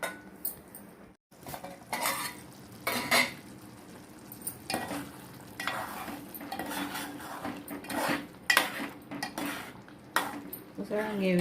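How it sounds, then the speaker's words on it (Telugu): Spice powder pounded by hand while a curry is cooked, giving repeated sharp knocks of uneven rhythm, close and fairly loud, with clinking of utensils between strikes. "పొడి కొడుతున్నాను"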